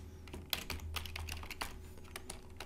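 Rapid, uneven keystrokes on a computer keyboard clatter steadily for a few seconds, close and fairly loud over a low steady hum, with no voices.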